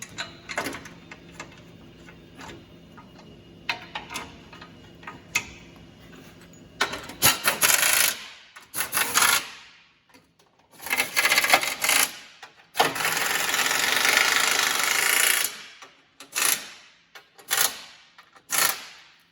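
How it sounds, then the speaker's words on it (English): Bolts being started by hand on the underbody shield of a 2019 Dodge Ram 1500 with a 5.7L Hemi during an oil change, scattered metallic clicks, rattles and scraping bursts, close and intermittent. "Start a couple bolts."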